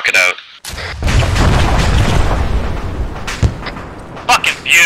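A loud explosion from a fired weapon in the ArmA3 military video game, a broad booming roar that lingers for several seconds, with brief voice bursts before and after and sharper cracks near the end.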